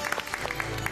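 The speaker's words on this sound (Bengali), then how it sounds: "বৌদির জন্য একটা জোরে হাততালি হয়ে যাক তো। হাততালি!" Quick clapping from a small group at a picnic scene in a Bengali TV serial, lasting under a second with a voice faintly mixed in.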